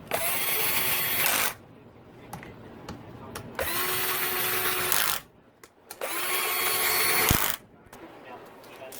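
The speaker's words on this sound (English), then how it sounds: "So I'm going to tighten all these with this cordless." Cordless drill driving bolts on a Yamaha YZ450F motor during a rebuild, in three long whirring bursts separated by short pauses, loud and close, with small clicks and taps between runs.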